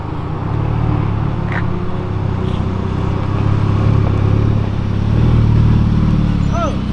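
A Volkswagen Jetta GLI's engine rumbles steadily as it pulls away from a car meet, loud and close among other idling vehicles and crowd noise.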